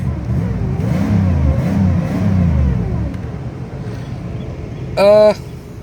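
A parked 200-horsepower car's engine hums and revs for several seconds, rising and falling close to the microphone, then fades back to idle; a brief louder tonal burst follows near the end.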